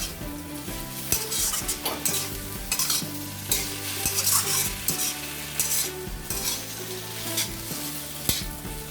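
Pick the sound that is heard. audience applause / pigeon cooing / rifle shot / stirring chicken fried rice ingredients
stirring chicken fried rice ingredients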